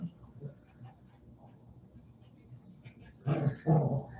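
Two dogs tussle over a dog toy, with low growls rumbling under soft speech before two louder, close snarling bursts near the end.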